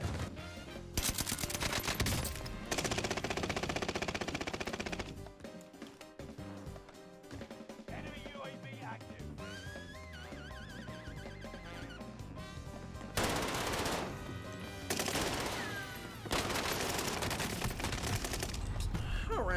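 Rapid automatic gunfire in a shooter video game, long loud bursts of bullets that pause briefly and then resume, dense and close throughout, with a voice talking at moments in between.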